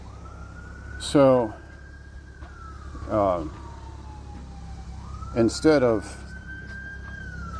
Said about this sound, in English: sorry about that siren, we were trying to avoid that.